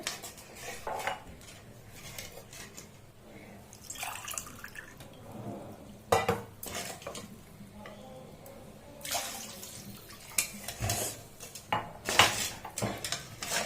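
Spiced masala being stirred with a little added water in a pan for Mithila-style mustard kabai fish, with scattered metal scrapes and clinks of a spoon against the pan and soft wet dripping sounds, moderately quiet throughout.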